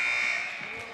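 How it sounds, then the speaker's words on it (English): The final buzzer sounds at a girls' high school basketball game, a loud steady electronic buzz lasting about a second with crowd noise beneath. "And that's the final buzzer."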